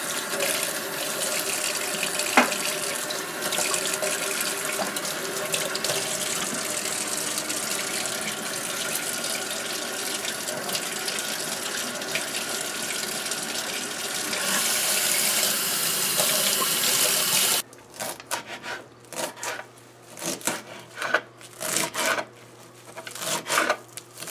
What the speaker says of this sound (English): she's going to wash her seasonings here, the parsley and scallions and stuff like that